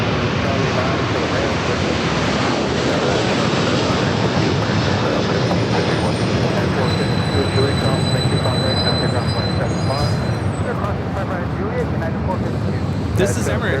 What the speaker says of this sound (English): This is Emirates Flight 216 taking off to Dubai on the A380.